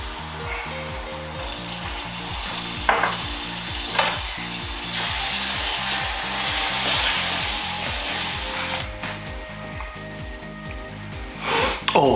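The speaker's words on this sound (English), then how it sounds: "Now let's add that tomato sauce to the pan." Tomato sauce sizzling and frying in a pan with onions and a restaurant-style curry base, a steady loud hiss with stirring scrapes throughout and a low rhythmic hum underneath.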